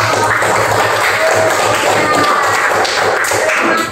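Fifth-grade pupils clap in a classroom, a lively patter of many small hands that is close and continuous, with a few louder taps and thuds mixed in.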